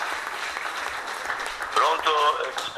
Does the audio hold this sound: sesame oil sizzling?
no